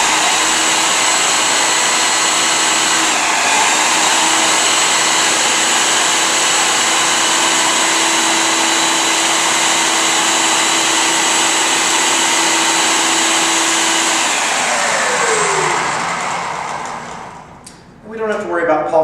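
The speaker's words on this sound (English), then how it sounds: "what we want to do is pulverize those down to where they're a nice pulp" Bananas being pulverized into pulp for an organic skincare exfoliant: a blender or processor whirs loudly and steadily for about fifteen seconds, its pitch shifting as the load changes, then winds down and stops.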